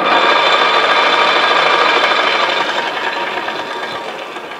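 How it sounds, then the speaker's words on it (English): A Logan metal lathe running at full speed, its gears and fast-turning lead screw giving a dense, even mechanical whir and rattle that stays loud and close, easing slightly toward the end. "that will be at full speed. That you'll hear the gears. That lead screw is moving pretty fast."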